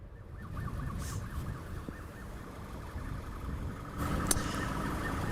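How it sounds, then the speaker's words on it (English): Alarms going off very close by, a continuous warbling wail sitting under steady low background rumble, fairly faint and distant-sounding, with a brief brighter burst near the end. "we're listening to some alarms that are going off very close to where we're at"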